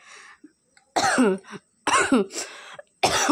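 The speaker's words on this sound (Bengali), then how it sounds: "আর এত কাশি হচ্ছে কি বলবো তোমাদের" A person with a bad cough hacks repeatedly, three close, harsh bursts of coughing separated by short silences.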